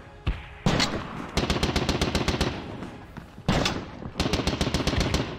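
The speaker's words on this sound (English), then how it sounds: "Firing on my tank." Gunfire in the WW1 Squad Battles wargame from John Tiller: two loud rapid machine-gun bursts, each opening with a sharp crack followed by a rattling string of shots, close and alone.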